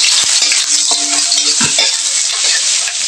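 Sinangag, garlic fried rice, sizzles steadily in a hot pan while a utensil stirs and scrapes it in irregular strokes, close and loud with no talking.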